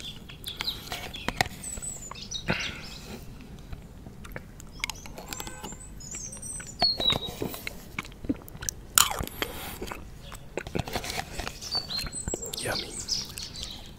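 Close, soft mouth sounds of eating Almhof strawberry yoghurt outdoors: wet smacks and small clicks scattered through the clip, with faint birdsong and distant outdoor activity in the background.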